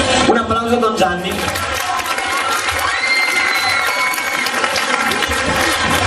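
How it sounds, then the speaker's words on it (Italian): An oratory stage audience cheering and clapping for Don Gianni at a song event, a loud, continuous crowd roar with shouts and applause, with children's voices mixed in. "Un applauso a Don Gianni"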